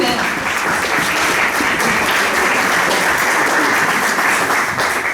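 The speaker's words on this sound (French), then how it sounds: "je demande d'applaudir très fort" A dense, loud round of applause from a crowd at a Rotary club presidency handover fills the whole stretch with steady clapping and some voices mixed in.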